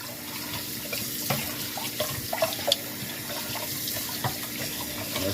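Cold tap water runs steadily into a sink while pork chops are washed with apple cider vinegar. Soft splashes and clinks come through the constant close rush, and no one speaks.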